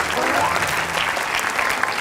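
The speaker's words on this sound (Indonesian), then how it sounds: "Tepuk tangan, tepuk tangan." Brisk, dense clapping from an audience at a Ramadan talk event, continuous and close for the whole short burst, with voices mixed in underneath.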